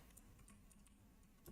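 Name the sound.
computer keyboard typing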